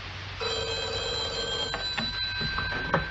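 A telephone rings at a police station in a radio drama, giving a sustained electronic bell trill followed by a few short clicks and knocks.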